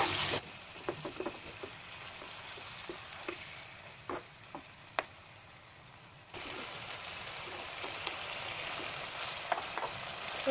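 Pepper chicken frying in a pan after being flipped: a soft sizzle with scattered taps and scrapes of a utensil, then a louder, steady hiss of frying that continues to the end.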